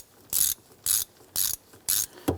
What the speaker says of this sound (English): Get that started on there. We're using a 15mm socket.